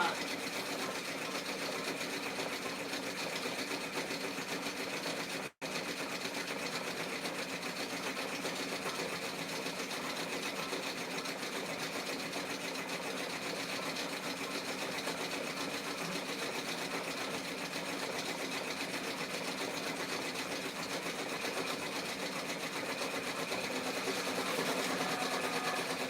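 Sewing machine stitching two identical dresses in different colors, a steady continuous mechanical whir that runs almost unbroken for the whole stretch, with one brief dropout near the start, close and even.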